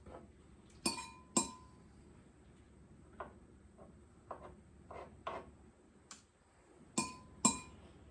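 A knife scrapes seeds off a roasted pepper fillet, giving a series of sharp, close clinks and taps against a hard surface, about ten separate strikes spaced irregularly over quiet moments.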